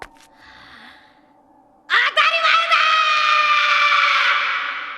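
Luffy, the straw-hatted anime character, lets out a long, loud scream toward the sky. It erupts suddenly after a quiet stretch and holds strong before easing slightly at the end.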